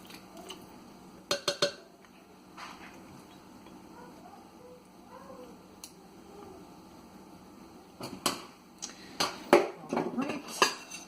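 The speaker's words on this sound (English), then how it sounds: "Scraping my garlic." A knife scraping minced garlic across a board, a few sharp scrapes early, then a denser cluster of scraping strokes near the end, with kitchen clatter and a voice talking quietly in between.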